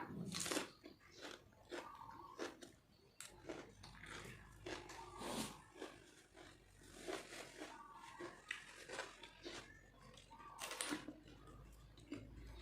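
Fresh, sweet, crisp produce is eaten raw, with repeated close crunchy bites and chewing spread across the stretch, quiet and without talk.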